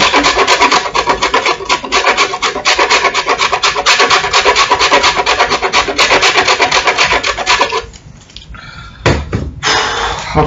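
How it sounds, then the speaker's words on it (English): Lard is scraped hard across a grater in fast, loud, rhythmic rasping strokes that run continuously. They break off, then resume briefly for a few final scrapes. "Hard work actually, grating lard, because that's, it's like grating ice."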